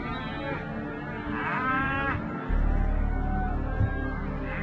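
Wagyu cattle in a herd on a farm on Tasmania's northwest coast moo loudly and repeatedly, their long calls overlapping into a continuous lowing chorus.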